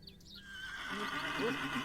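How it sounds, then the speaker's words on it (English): A horse whinnies in the video game The Excavation of Hob's Barrow, a rising, wavering neigh swelling through the second half over a steady synthetic ambient bed, with a voice speaking faintly early on. "Is there a horse in the alley?"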